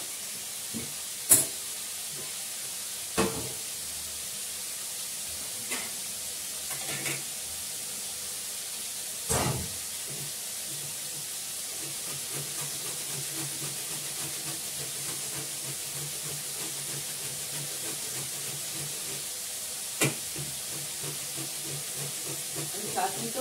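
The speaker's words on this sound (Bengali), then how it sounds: "আদা বাটা দিয়ে দিলাম।" Ginger paste sizzling in hot oil, a steady soft hiss with faint crackles, fairly quiet, broken by occasional sharp clatters of utensils.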